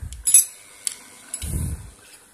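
Several light metallic clicks and taps as a metal spoon pries the plastic panel off a Honda PCX 150 digital speedometer, then a brief low scraping rub, close by and moderately loud, with no speech.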